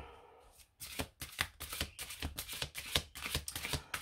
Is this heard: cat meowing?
no